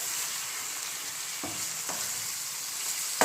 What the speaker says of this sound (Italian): e vado a fare rosolare il tutto